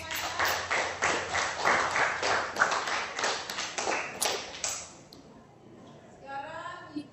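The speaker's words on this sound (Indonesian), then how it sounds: "Tepuk tangan" A school class claps hands together in a classroom, a run of fairly loud, distinct rhythmic claps lasting several seconds before dying away into quieter room noise and faint talk.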